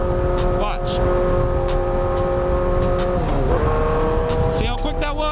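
A motorcycle engine runs loud and close, holding a steady drone, then dips briefly in pitch partway through as the rider shifts up a gear before pulling on again, with a voice talking over it.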